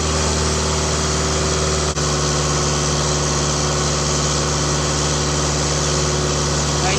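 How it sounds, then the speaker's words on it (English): A 2001 Toyota Land Cruiser Prado engine runs at a steady, elevated idle around 2,100 rpm with a constant mechanical hum and drone, loud and close, with no clear rise or fall in pitch. "I'm going to check how high it's revving right now."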